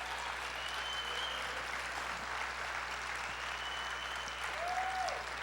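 A church congregation claps in steady, continuous applause, fairly distant and moderate in level, sustained for several seconds without pause.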